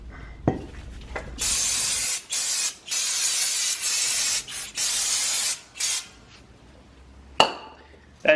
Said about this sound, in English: That's just brake cleaner.